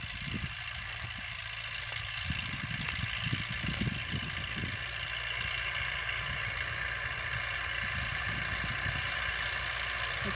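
A YUMZ-6 tractor engine runs steadily at idle, pulling a PLN-3-35 plough, its low rumble and exhaust throb continuous and close for about ten seconds with no talk.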